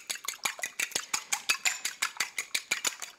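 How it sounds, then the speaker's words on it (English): Two eggs whisked with a fork in a bowl, a quick regular clatter of metal tapping against the dish, about five strokes a second, close and alone with no talk. "Just whisking them with a fork."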